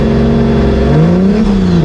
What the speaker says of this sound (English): right here, I'm really trying to warm up my tires